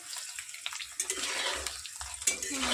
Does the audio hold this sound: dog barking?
no